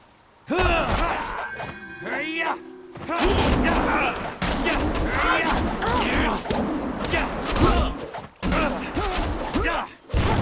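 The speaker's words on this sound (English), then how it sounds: "Cannon fire, look out!" Heavy booming cannon blasts and crashing impacts in the Jade Empire video game, a dense barrage of loud explosions following a sharp opening hit, with shouted voices mixed in among the combat.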